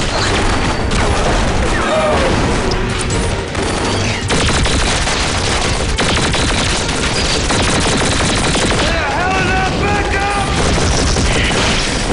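Dense sustained gunfire and explosions from a Falling Skies battle scene, loud and continuous with rapid bursts and booms throughout, with a voice shouting over the din.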